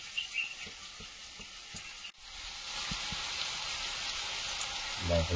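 Potatoes frying with red amaranth greens (lal shak) in a pan in a village kitchen, a steady loud sizzle that swells after a brief drop midway, with faint knocks early on.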